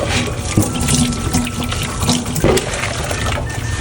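Tap water runs steadily into a sink while dishes are washed with sparkly dishwashing liquid, a continuous close splashing stream with occasional clinks and shifts in flow.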